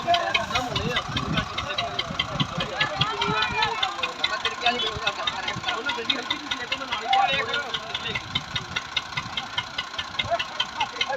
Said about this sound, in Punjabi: ਇਹ ਟਰੈਕਟਰ ਨਿਕਲ ਗਿਆ